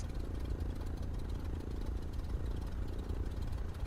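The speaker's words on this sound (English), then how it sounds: "we go ahead and kill the engine" A Cessna 152 light aircraft engine runs at a steady idle, a close, continuous low rumble with faint rattling and no breaks or talk.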